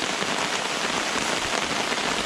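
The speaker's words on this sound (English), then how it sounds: "howling rain." Heavy rain drums steadily on a tarp over a hammock at a wild camping spot in bad weather, a dense, continuous close hiss with no voices.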